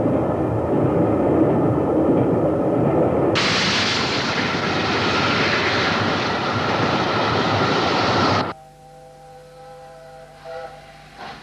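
An LNER A4 steam locomotive hauls a light train on a Scottish route to Aberdeen. A loud, close, roaring rush of wheels and steam swells and then cuts off abruptly, leaving a quieter humming tone.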